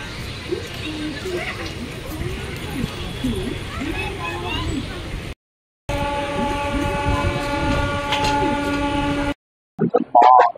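The 12712 Pinakini Superfast train departs Singarayakonda station, rumbling steadily with a rattling, rhythmic clatter, and a horn-like tone sounds partway through; short gaps interrupt the noise.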